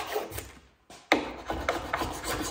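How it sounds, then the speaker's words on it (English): Cabinet scraper pushing dried glue off a wood board surface after glue-up, a series of close, rasping strokes with a short pause early on, each scrape starting sharply and trailing off, no talking. "the scraper just gives you an absolute guarantee that you're just basically pushing the glue off the surface"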